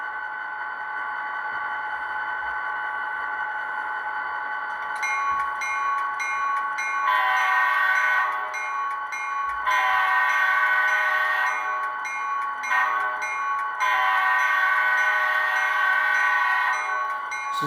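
A Scale Trains SD40-2 #7607 model locomotive's sound system hums a steady diesel drone, then radiator fans kick on and add a brighter, pulsing whir over the engine tone.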